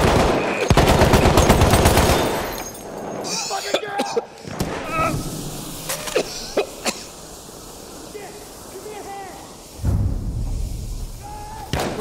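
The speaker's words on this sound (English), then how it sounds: "There! Enemy machine gun!" Machine gun fire in a Battlefield 1 domination match, heard as rapid dense bursts early on and then scattered sharp single shots, with voices calling out over the combat.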